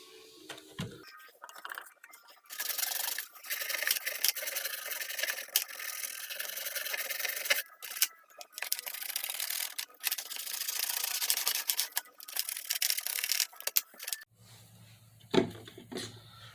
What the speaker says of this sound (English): We're going to give it another good scrub